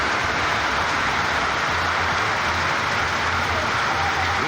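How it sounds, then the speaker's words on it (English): Steady rain pours down outdoors, a dense continuous hiss that holds evenly throughout, with a low rumble underneath and no voices. "Rain, rain, rain, rain, rain."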